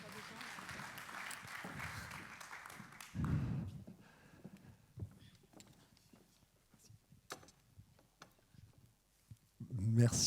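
Audience applause at a French corporate awards ceremony for innovative customer-experience brand projects: a burst of clapping fills the opening seconds, then a speaker talks over a quieter room with scattered taps.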